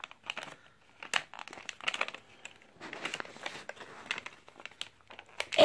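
A Minions blind bag made of foil-like plastic crinkles and rustles in bursts as someone struggles to open it, close and fairly steady throughout.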